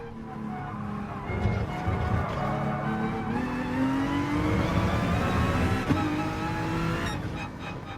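Race car engine in the Gran Turismo Sport video game revving and accelerating hard, with rising harmonic engine tones, brief tire squeal, and a gear shift near the end, loud and continuous throughout.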